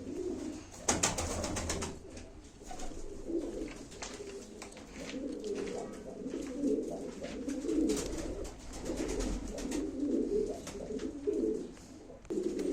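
Pigeons coo steadily at a live Turkish pigeon auction, a continuous low burbling chorus from many birds close by, with occasional wing flutters and faint background noise throughout.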